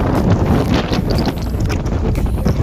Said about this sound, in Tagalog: Ooh, very windy.